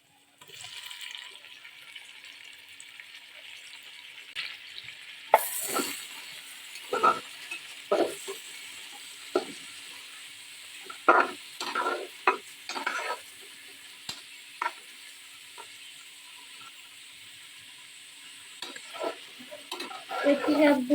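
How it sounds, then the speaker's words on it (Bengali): Chopped carrot with green, yellow and red capsicum is stir-fried in a pan, a soft sizzle broken by repeated scraping stirs and tosses at irregular intervals. "ক্যাপসিকামগুলো এগুলো আসলে বেশি ভাজা লাগবে না, হালকা ভাবে একটু ভেজে নিলে হবে।"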